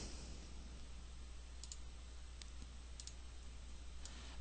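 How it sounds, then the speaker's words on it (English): A handful of faint, sharp mouse clicks land sparsely against a quiet hum as a software button is pressed on a computer, some coming in quick pairs. "So then click the Choose button"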